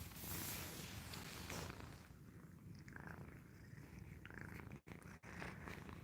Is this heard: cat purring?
yes